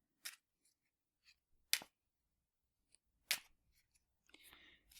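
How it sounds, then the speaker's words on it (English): Playing cards being shuffled and handled during a soft-spoken card trick: a few sharp, crisp riffles and snaps separated by quiet pauses, with a softer rustling flutter near the end, close and gentle. "now we'll just take the cards and shuffle them up"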